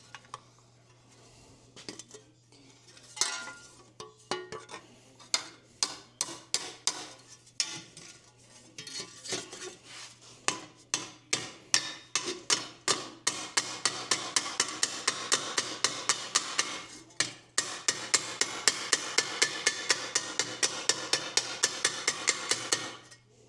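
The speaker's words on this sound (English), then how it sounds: "Get my cheap body hammers and an anvil." Cheap steel body hammers strike an anvil while reshaping a rear floor pan flange on a 1968 Dodge Dart GTS. Sparse, ringing metallic taps give way to a fast, steady run of loud blows.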